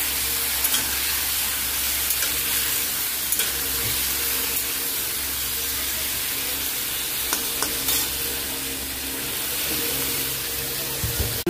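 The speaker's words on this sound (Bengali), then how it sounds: "আলু পটলটা একসঙ্গে ভেজে নেবো" Potato and pointed gourd fry together in hot oil with a continuous close sizzle, and occasional stirring clicks break through it. No one talks.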